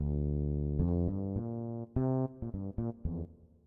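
Bright, dated 90s synthesized string chords from a Roland Sound Canvas module play alone, sustaining first and then hitting in short staccato stabs.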